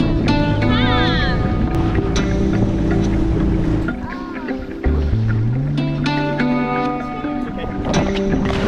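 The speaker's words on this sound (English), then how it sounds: "Now we're about to turn the engine off." A boat engine idles at anchor in the Indian Ocean with a steady low drone, and people talk over it amid wind and water noise.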